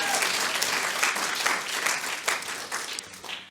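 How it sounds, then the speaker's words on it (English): Studio audience applause on a quiz show, a dense, steady wash of clapping that holds loud throughout and tapers slightly at the end. "Big round of applause"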